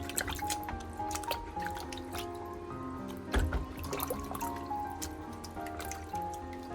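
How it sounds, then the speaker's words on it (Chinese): Scallion roots being rinsed in a basin of clean water, with close, repeated drips, splashes and squishy swishing of wet roots throughout, including one louder slosh midway. "再次把它放入清水中多淘洗2遍，直到把里面的水洗至清澈为止。"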